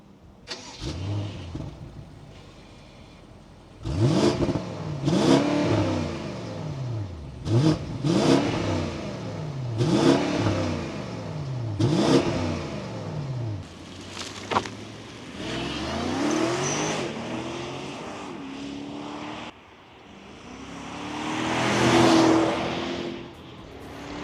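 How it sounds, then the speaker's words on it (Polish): A 2021 BMW 750i V8 revs hard in a string of rising pulls, each sweep climbing and dropping in pitch before a longer, smoother acceleration at the end, heard from inside the car. "słychać, że jest V8"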